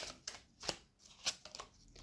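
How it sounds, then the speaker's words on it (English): Tarot cards being shuffled by hand, a quiet run of soft papery riffles and snaps in short bursts, close and isolated with no voices. "Last shuffle."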